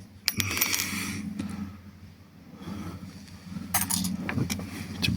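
Small pieces of scrap metal clink and clatter as they are sorted during cable recycling, with sharp metallic drops and jangles in bursts against a low background hum.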